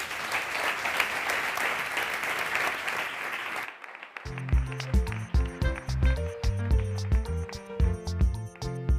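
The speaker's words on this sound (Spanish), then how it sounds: "Un aplauso para ellos." A studio audience on a Spanish talk show claps in a dense burst for about four seconds, then the applause cuts off abruptly as rhythmic music with a bass beat takes over.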